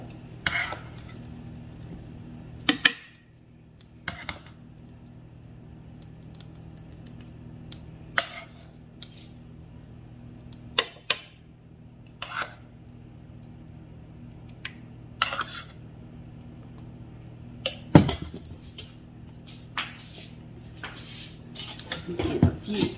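A spoon stirring grits in a pot, heard as scattered sharp clinks and scrapes against the pot at irregular intervals over a low steady kitchen hum, close and fairly quiet.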